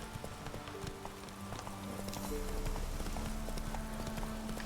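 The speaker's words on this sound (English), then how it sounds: "I don't think I've ever seen wild horses just kind of running around here before" Wild horses gallop in The Witcher 3 video game, a close, rapid clip-clop of hooves drumming steadily under a low musical drone, growing louder as they pass.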